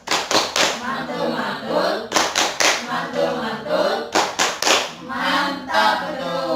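A group of women claps together in a patterned tepuk mantul routine: loud, close bursts of hand claps in repeating rhythmic sets with brief pauses between, voices chanting along throughout.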